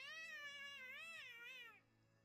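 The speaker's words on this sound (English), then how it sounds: "That's a cat." A cat meows in the video game Honkai Impact, one long drawn-out wavering meow that is close and clear, ending abruptly into near silence.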